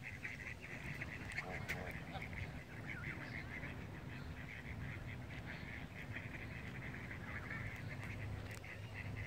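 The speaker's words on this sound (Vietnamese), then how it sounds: "Quá trời là vịt." Wild ducks, including a green-headed mallard, quack and honk together outdoors in the USA, a faint, continuous chorus of calls with a distant voice now and then.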